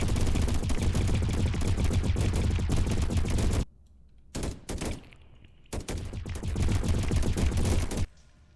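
Laser cannons firing in the strategy game Deep Amon, loud rapid bursts of fire that break off into short gaps and then resume in sharp volleys.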